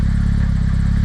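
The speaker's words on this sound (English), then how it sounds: "loudest turbo chatter ever" Turbo chatter from a boosted, modified Toyota MR-S, heard from inside the car: a loud, steady, rapid fluttering rattle over a dense low engine drone, with no pauses.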